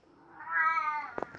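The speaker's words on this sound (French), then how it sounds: "désolé pour le bruit de mon chat" A pet cat gives a single drawn-out meow that swells and fades, close and fairly loud, followed by a couple of short clicks or knocks; no one speaks.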